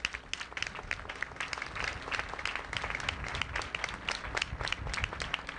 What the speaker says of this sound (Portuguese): queremos saudar com uma salva de palmas